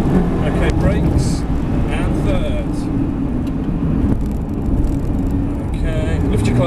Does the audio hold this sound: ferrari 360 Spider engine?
yes